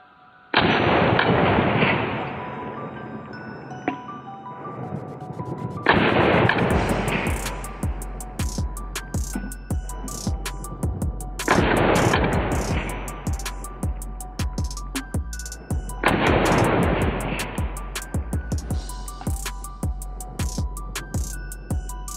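Four loud shotgun blasts from a Girsan MC312 Sport semi-automatic, fired about five seconds apart, each a sharp crack followed by a long rolling echo, with no voices.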